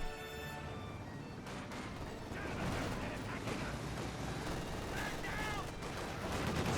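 Rapid automatic gunfire from an M15 half-track in the Company of Heroes 2 battle game, a dense distant crackle of shots under a continuous battlefield din, with faint voices.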